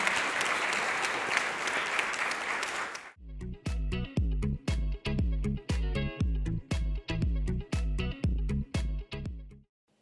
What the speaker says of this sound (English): Please give a round of applause for our first panel.